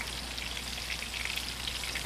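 Venison frying in hot oil gives a steady, close crackling sizzle that holds evenly throughout, with a brief clatter at the very end and no talking.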